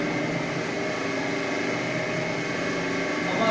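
An Odipar marble grinding and polishing machine runs with a steady, even mechanical hum and whir that holds at a constant level throughout, with no voices.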